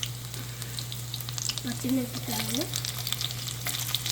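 Urad dal, mustard seeds, cumin and garlic sizzle in hot oil for a raw banana curry, giving a steady, close crackle and hiss. A voice briefly speaks over the frying.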